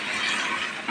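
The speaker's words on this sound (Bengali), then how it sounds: "এখন পরিমাণ মতো পানি দিয়ে দিব।" Water tipped into a hot pot of bhuna khichuri gives a steady, fairly loud hiss with faint crackle running through the whole moment, no voices over it.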